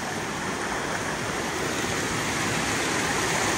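Shannon Falls in British Columbia, a waterfall heard up close as a steady, loud, broadband roar of crashing water, unbroken from start to finish with no voices.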